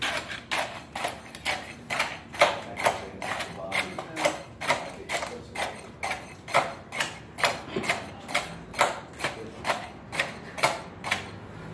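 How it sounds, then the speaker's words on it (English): Fresh concrete in a cylinder mold being rodded with a 3/8 inch tamping rod, a steady series of about two dozen evenly spaced stabbing thuds and clicks, close and clear with no talking. "I'm going to rod 25 times in a cylindrical motion"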